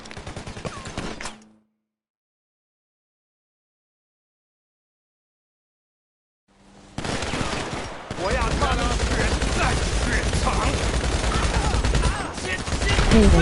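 Gunfire in GTA Online: a brief burst of shots, then a gap of silence, then a long dense stretch of rapid automatic shooting at close range mixed with game noise and some voices.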